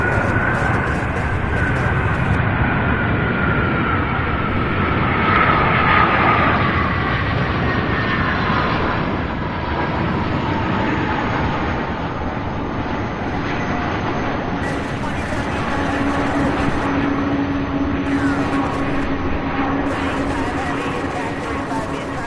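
A fixed-wing aircraft lands in gusty wind at Louisville International Airport with a sustained jet engine roar and a slowly falling whine, heard from a distance over steady wind noise.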